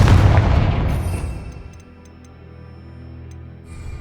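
A heavy Confringo spell blast from the Hogwarts Legacy video game booms loudly at the start, then rolls off into a fading rumble with faint ticking and a softer swell near the end.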